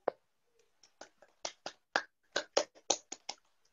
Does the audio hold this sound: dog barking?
no